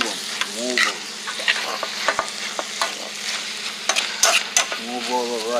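Puerto Rican-style fried rice stirred in a frying pan, a steady loud sizzle with repeated scraping stirs and clinks of the utensil, close up and alone.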